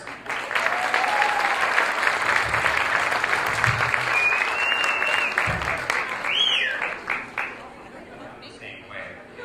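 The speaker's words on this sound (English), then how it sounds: "Give yourselves a big round of applause" Hospital staff at an employee awards and recognition dinner break into a big round of applause, with whoops and cheers over the clapping, which fades toward the end under scattered voices.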